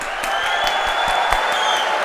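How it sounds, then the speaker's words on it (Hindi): An audience at a comic poetry gathering claps for Faisalabad, with scattered individual claps standing out over a dense, steady wash of applause from a mid-distance crowd. "पहले तो फैसलाबाद के लिए तालियां बजा दीजिए"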